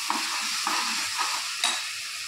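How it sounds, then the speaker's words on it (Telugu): Food sizzles steadily in a hot pan while a spoon stirs it, with several distinct scraping strokes cutting through the continuous frying hiss. "సో ఇలా ప్రతిదీ బాగా వేగేటట్టు వేపుకోవాలి."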